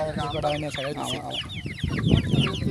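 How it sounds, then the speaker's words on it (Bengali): Broiler chickens cluck and squawk close by on an open-air poultry farm of about sixty birds, with several overlapping calls through the clip and no talk. "কতগুলো পোলট্রি মুরগি আছে নি আছে ষাটটা"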